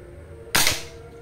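A single sharp crack of a Taurus A2K PCP air rifle shot, close and sudden, with a short fading tail in an otherwise quiet setting.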